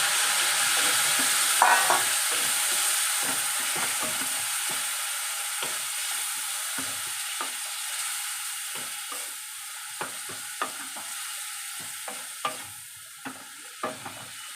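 Radish greens stir-fry in hot oil with dry chilli, nigella seeds and garlic, a steady close sizzle with scattered sharp clicks and scrapes of the spatula against the pan.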